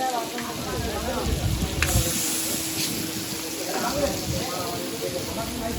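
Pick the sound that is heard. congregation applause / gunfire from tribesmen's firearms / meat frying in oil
meat frying in oil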